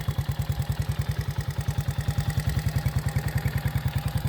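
A 1971 Honda SL70 motorcycle idles on choke just after a cold start, its small engine putting out a quick, even, steady chugging pulse at close range.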